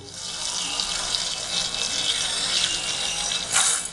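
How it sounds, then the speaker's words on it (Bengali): Water coming to a boil in a pot for liquor tea, a steady broad bubbling and hissing rush that runs throughout, with a brief louder surge near the end. "দেখুন দর্শক বন্ধুরা, আমাদের এই জলটা ফুটতে শুরু করে দিয়েছে।"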